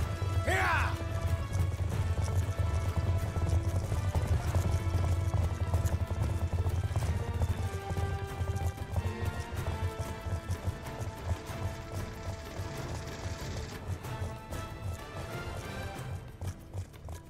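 Horses galloping in Call of Duty Black Ops 2, a steady clip-clop of hooves running under dense game music and battle noise, loud and continuous throughout with a brief whinny near the start.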